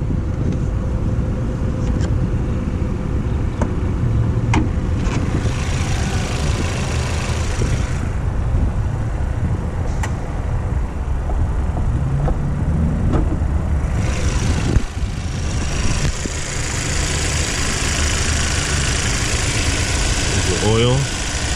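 A 2021 Chevrolet Equinox Redline Edition's 1.5-liter four-cylinder engine idles steadily with the hood open, a constant low hum with some wind noise over it.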